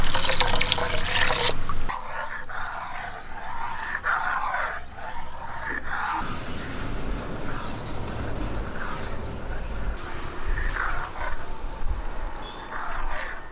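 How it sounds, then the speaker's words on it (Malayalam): Water poured into milk in a pan while making semiya payasam, a close, steady liquid pouring and splashing that runs on for several seconds, with no talk. "ഒരു 1/4 കപ്പ് വെള്ളം കൂടെ ഒഴിച്ചു കൊടുക്കാം."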